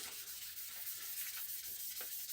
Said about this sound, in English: and this creates a very fine layer of tiny bits of steel dust, and starts to take out the brushing marks from where we've been sanding it previously.